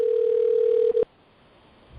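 A single steady telephone ringing tone sounds for about a second and then cuts off, leaving faint background hiss.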